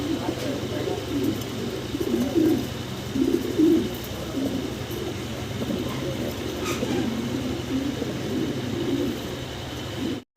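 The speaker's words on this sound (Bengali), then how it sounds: "এই চমৎকার কবুতরগুলো বাইরের কাছ থেকে সংগ্রহ করে নেবেন" Fancy pigeons, including Andalusian-coloured birds, coo in a loft, their soft repeated coos layered over a constant low hum, with someone talking intermittently throughout.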